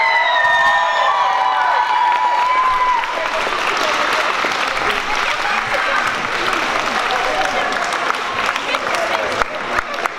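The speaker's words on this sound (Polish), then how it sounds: "Wielkie brawa dla nich!" Loud applause and cheering from a youth gathering, with whoops and shouts rising over the clapping, following a few seconds of sustained music tones at the start and continuing strongly for about ten seconds.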